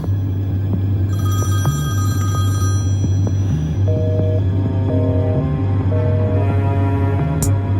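A telephone rings in repeated tonal bursts over a loud, steady low hum, the ring pattern recurring several times without any talking.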